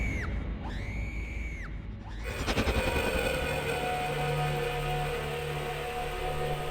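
Screams in a haunted-room scene from a Hindi horror drama: two rising-and-falling wailing cries at the start, then a loud, dense burst of noise and droning tones carrying on to the end.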